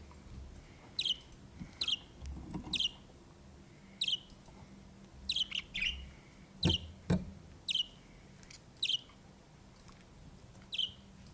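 A young budgerigar gives a dozen short, sharp chirps at irregular intervals while it eats, faint and close against a quiet room, with a couple of soft taps midway.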